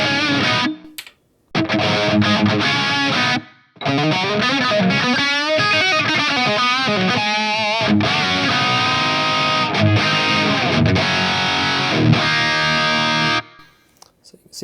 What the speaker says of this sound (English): next I have some small plate reverb here.